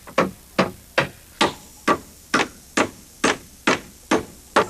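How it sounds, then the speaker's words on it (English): A hammer drives nails into deck joists of a new backyard deck, landing about ten evenly spaced, solid blows at a steady rhythm, loud and close with no talking. "the joists get toe-nailed into the ledger first to bring them up tight against it, and then we'll end nail them"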